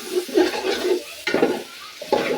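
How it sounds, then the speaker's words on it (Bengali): Potatoes are stirred in a cooking pot for village-style khichuri, with three bursts of scraping and sizzling separated by short pauses and no voices. "নাড়াচাড়া করে দিলাম।"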